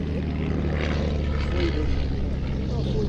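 A vintage propeller aircraft flies a slow speed pass at an airshow. Its engine drones steadily and loudly throughout, under a commentator's voice.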